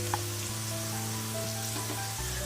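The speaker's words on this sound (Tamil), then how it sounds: "இப்போ நமக்கு முந்திரி நல்லா வந்து பொரிஞ்சிடுச்சு" Broken cashews and curry leaves frying in oil for ven pongal: a continuous close sizzle with faint crackles and pops, steady throughout.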